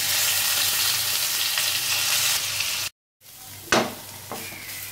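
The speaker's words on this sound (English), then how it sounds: "Now heat some fresh oil. Fry the onion paste." Onion paste frying in hot oil for a Mughlai fish curry, a steady loud sizzle that cuts out briefly and then returns more softly, with a few sharp stirring scrapes and no talking.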